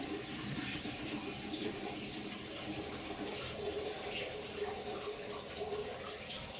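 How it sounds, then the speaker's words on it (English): Water drains steadily down through a tank with a pump switched off, a continuous rushing, hissing flow of unchanging level that lasts throughout, moderately close, with no voices. "Put off the pump so it don't overheat while it's draining down below the pump"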